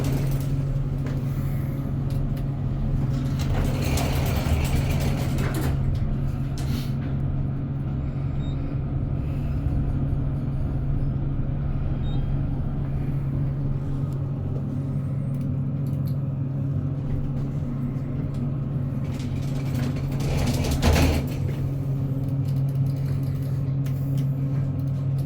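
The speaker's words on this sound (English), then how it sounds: "This will be the elevators in the blue parking garage here at the Oklahoma City Airport." American Elevator elevators run in the blue parking garage at Will Rogers World Airport in Oklahoma City. A steady low machinery hum runs throughout, broken by a couple of brief mechanical clunks and rumbles.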